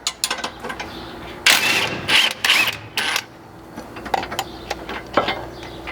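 Loud, close ratcheting of a socket wrench loosening bolts on the tow hitch tie-in bracket of a Nissan Frontier, in several bursts of rapid clicks with short pauses and small metallic clanks between them.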